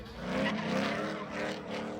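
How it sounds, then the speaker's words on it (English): Drift cars slide around at a Watkins Glen track event, with tires squealing in long, wavering screeches over a roaring engine, close and loud in two pulsing surges. "There's also some great drifting this weekend, where the audience could actually participate and ride in some of the cars."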